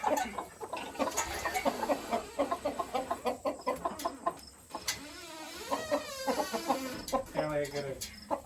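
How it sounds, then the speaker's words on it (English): Hens cluck in a homemade poultry coop with nesting boxes, giving a quick run of close clucks and squawks, and people talk over them. "There's a chicken in there at work already."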